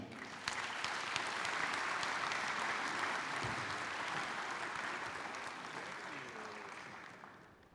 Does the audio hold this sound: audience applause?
yes